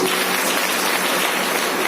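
A seminar crowd at a business talk breaks into loud, dense applause, a thick, continuous wash of many hands clapping at once that stays strong throughout.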